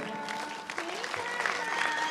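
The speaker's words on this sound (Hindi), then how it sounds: "ताली कैसे बजती है?" Listeners at a Ramayan katha gathering clap hands in a brief burst, mixed with murmuring voices and a tonal sustained note in the background.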